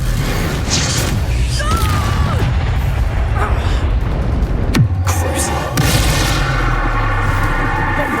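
A Confringo fire spell explodes in the Hogwarts Legacy video game, a sharp boom bursting midway through a dense, loud game soundscape of music and effects, with voices talking around it.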